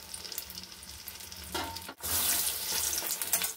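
Battered vegetable chapati pieces frying in hot oil, a steady soft crackle that swells into a louder, hissing sizzle after a brief dip, close and alone without voices.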